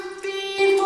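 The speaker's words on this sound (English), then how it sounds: "And then it looks like I added two reverb plugins back to back." Sung vocal note drenched in two stacked reverbs, a sustained tonal voice with a thick, washy tail that swells louder toward the end of the brief phrase.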